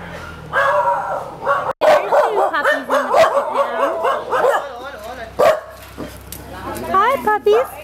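Puppies in a shelter pen in India bark, yip and whimper in quick overlapping bursts throughout, close and lively, with a person's voice talking among them.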